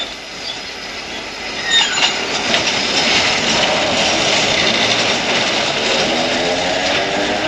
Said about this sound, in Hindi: लो तुम्हारी ट्राम आ गई